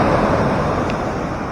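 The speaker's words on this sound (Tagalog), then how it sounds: "Laki kasi ng mga alon" Large ocean waves surge and roar along a Philippine shore as Typhoon Bebinca approaches, a steady, loud wash of rushing water mixed with wind buffeting, continuous and without voices.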